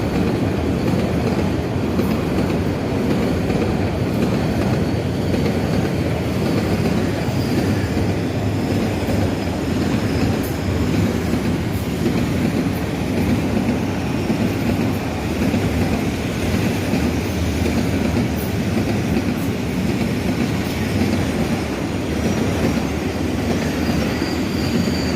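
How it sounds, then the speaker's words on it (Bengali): A long train rolls through Sitakunda railway station in Chittagong, Bangladesh, producing a continuous loud rumble with rhythmic wheel clatter and occasional squealing that stays steady and close throughout. "ট্রেনটি আসতেছে অতি দ্রুত গতিতে"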